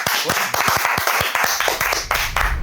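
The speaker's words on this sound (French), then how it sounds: "Applaudis-le, PA, applaudis-le." Crowd applause with sharp, irregular claps rising over a noisy room, steady and fairly loud throughout.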